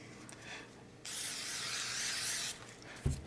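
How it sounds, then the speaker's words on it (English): Spray glue hisses loudly in one steady burst of about a second and a half onto the backs of 120 and 220 grit sanding discs, with a faint thump just after it stops. "I take my spray glue."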